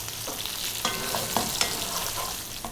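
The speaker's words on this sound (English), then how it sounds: "We're going to stir that around." Ethiopian lamb tibs with chili sizzle in a hot pan while a utensil stirs and scrapes through the meat, a steady close frying hiss broken by soft clacks, with no talking.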